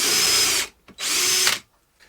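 A drill fitted with a Forstner bit bores into a wooden board in two loud whirring bursts separated by a brief pause.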